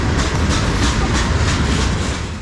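A P&W freight train of covered hoppers loaded with sand rolls past at night, a loud, close, steady roar of wheels with rhythmic clickety-clack over rail joints.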